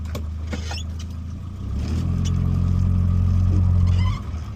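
A Morris Minor with a fault causing a ticking noise in the engine bay drives along under load, its engine a steady low drone that swells as it accelerates, heard from inside the car.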